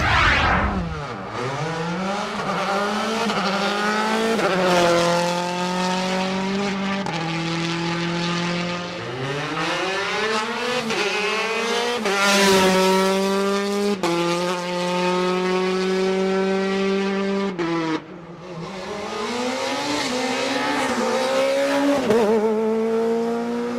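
Race cars on a Tour Auto 2017 special stage at Sainte-Suzanne rev loudly and shift up through the gears, engine notes rising and falling as several cars pass near, one after another, with no talk.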